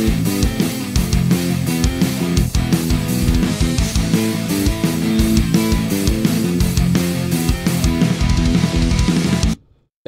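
Dense full-band music mix processed with a Waves F6 EQ and L1 limiter plays loud and compressed with steady driving beats for about ten seconds, then cuts off abruptly, with no talking.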